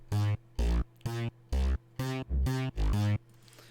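Thick synth bass with one layer removed plays seven short sustained notes in a choppy, evenly spaced rhythm, loud and dry with brief gaps between notes and no voices.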